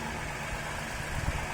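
A Tata Punch 1.2 litre, 85 bhp petrol engine idles with the bonnet open, giving a quiet, steady low hum with slight vibration and no talking.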